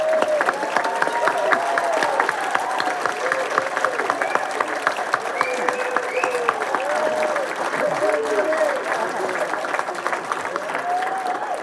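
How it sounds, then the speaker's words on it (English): Guests at an annual Chamber of Commerce awards dinner keep up sustained applause for an award winner, with steady dense clapping alongside cheering, whoops and excited voices across the room. "I do think we need another round of applause for the exuberance"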